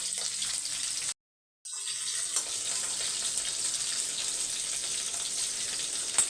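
Curry leaves and sesame seeds frying in a pan, a steady close sizzle with faint crackle, broken by a brief silent gap near the start before the hiss resumes and carries on evenly.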